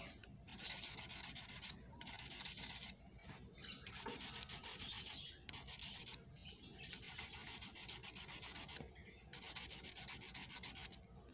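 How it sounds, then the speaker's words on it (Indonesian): Steady scraping of sandpaper rubbed back and forth along a PVC pipe, in repeated strokes with brief pauses between them, close and fairly loud. "Jadi kita amplas lurus kayak gini."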